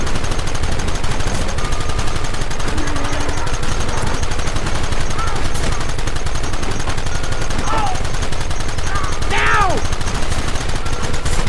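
Rapid bursts of gunfire from a shootout in the video game Red Dead Redemption, dense repeated shots under loud game noise, with shouted voices in the mix.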